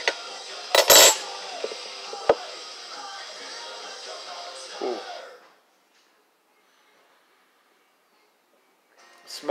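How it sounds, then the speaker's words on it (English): A can opener spoon pries open a metal can of cowboy candy with a few sharp metallic clicks and scrapes over faint background hiss, then quiet. "I'm going to try this cowboy candy first. A little can opener spoon."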